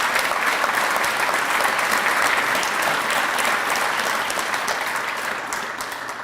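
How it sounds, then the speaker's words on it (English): A press conference crowd claps for Coach Furr in a dense, sustained round that holds loud and even, then eases slightly toward the end. "Let's give him a round of applause,"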